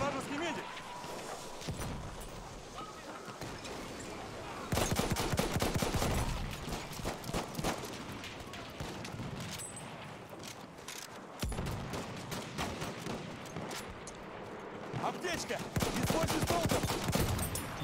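In Battlefield 1 gameplay, a weapon fires in repeated rapid bursts of close gunfire, the bursts separated by brief pauses, while a player talks over the shooting.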